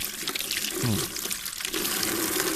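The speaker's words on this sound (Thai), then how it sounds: "ก็จะได้น้ำแบบ เป็นเส้นแบบรูใหญ่ๆอย่างนี้เลยนะครับ ก็ใช้ล้างมือ" Water runs from a homemade faucet head cut from a bottle neck, its large holes sending out thick streams for handwashing. The flow is steady and close, splashing continuously, with no voices.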